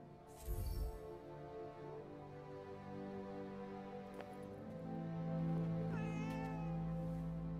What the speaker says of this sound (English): Hey, that cat. Did it tail us here?